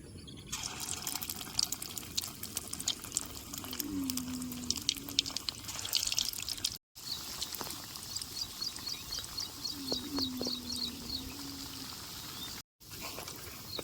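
Balls of bread batter are dropped into hot oil over a village wood-fired stove and fry with a dense, steady crackle and sizzle, sometimes with faint bubbling, and it continues loud and close throughout.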